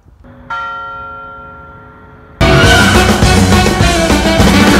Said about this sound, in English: Remember, ring that bell.